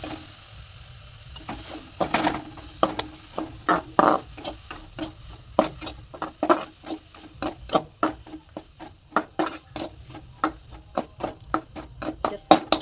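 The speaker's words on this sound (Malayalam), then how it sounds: "കുറച്ച് മഞ്ഞളും കുറച്ച് മുളകും ഇട്ട് വഴറ്റുക കേട്ടോ." Turmeric and chili powder sautéing in a hot pan, with a spatula scraping and tapping the pan in a quick, steady rhythm over a soft, constant sizzle. The sound is close and there is no talking.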